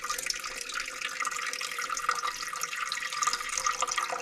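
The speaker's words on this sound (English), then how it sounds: "Tap water, about as hot as my sink will do it." Hot tap water pouring from a kitchen sink faucet into a bread maker pan, a steady hissing splash that runs on continuously at moderate volume.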